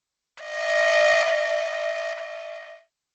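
A school lockdown alarm: a single loud, buzzy horn-like tone sounds for about two and a half seconds, rich and harsh, fading slightly before stopping.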